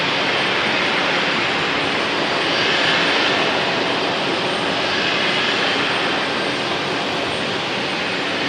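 At an airport gate, an airliner's jet engine runs with a loud, steady, broadband roar that stays constant throughout and has no talk over it.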